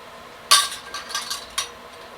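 Metal canning jar lids clink and clatter as they are lifted out and handled for drying, one bright clank followed by a few lighter metallic taps.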